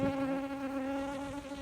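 Honeybees buzz around an open hive frame during a colony transfer, a steady close droning hum with a clear tone, continuous and without talk.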